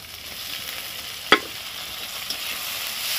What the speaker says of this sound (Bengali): টমেটোটা যতক্ষণ নরম হচ্ছে ততক্ষণ মধ্যে ভেজে নেব